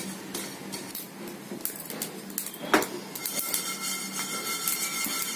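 Whole spices dry roasting in a pan on a gas stove for kalonji masala, giving a steady sizzle with scattered sharp crackles and pops close by, no talking.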